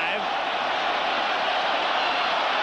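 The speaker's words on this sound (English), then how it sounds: "Crowd saying go, go, go" A dense, steady roar from a football stadium crowd at a 1989 Cincinnati Bengals Christmas Day game, chanting go, go, go as one continuous wash of many voices, loud and unbroken.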